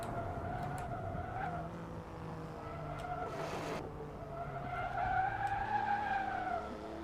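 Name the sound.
race car lapping Mugello circuit in a racing video game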